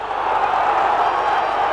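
A 1990s Derby County football crowd lets out a steady, loud roar of cheering that holds throughout, with no pause.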